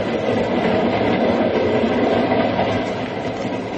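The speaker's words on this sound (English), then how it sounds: "We're running at 60 miles an hour on open track in the dead of night." A train rumbles steadily along open track at 60 miles an hour at night, loud and close, with a continuous rolling roar and faint rhythmic clatter.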